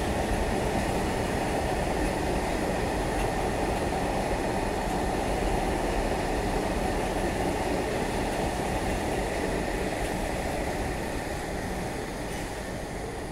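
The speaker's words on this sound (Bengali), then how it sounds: "একটু দাঁড়ান, ট্রেনটা পাস করে যাক।" A train passes close by for several seconds in a steady, loud rumble of wheels and carriages, fading slightly toward the end, with no voices.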